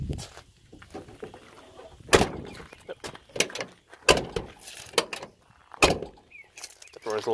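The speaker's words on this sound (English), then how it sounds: "The door is a little finicky sometimes." The door of a 1992 Ford F150 pickup truck makes a series of sharp latch clicks, clunks and creaks, irregular and close, with some squeaky scraping between them.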